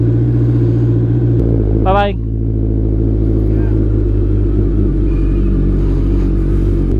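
Suzuki Hayabusa motorcycle engine idling close by, a steady loud low rumble with a brief rev blip early on, while a person speaks briefly over it.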